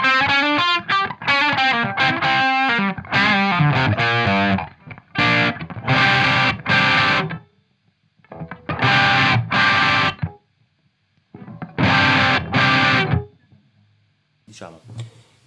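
Gibson 335 electric guitar with Burstbucker pickups through a Volta 1987 amp, playing a distorted old-school rock tone: loud riffing and chord bursts separated by short silent gaps, with no voice over it.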